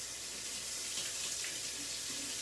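Tap water runs steadily into a sink to wet a cleaning cloth, a continuous close hiss and splash at moderate level without a break, and no one talks.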